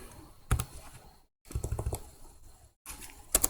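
Bursts of quick, close clicking keystrokes on a computer keyboard while a value is entered in AutoCAD, in three short clusters separated by brief silent gaps, with no talk.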